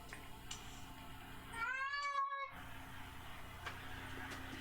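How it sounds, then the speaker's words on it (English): A cat gives one clear, rising-and-falling meow in the middle, close and moderately loud over quiet room background noise. "We got a kitty on my knee."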